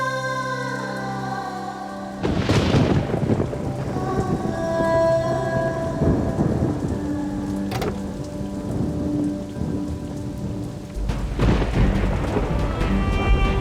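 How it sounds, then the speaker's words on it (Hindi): Heavy rain pours down steadily in an unseasonal storm, and thunder cracks and rumbles loudly at the start and again near the end. "बारिश बहुत तेज हो रही है मैम"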